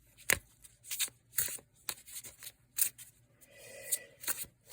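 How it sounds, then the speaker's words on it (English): A deck of oversized playing cards being shuffled by hand, with repeated sharp riffles and snaps in an irregular rhythm, close and fairly loud, followed by a softer rustling stretch near the end. "Let's see if I can learn how to shuffle."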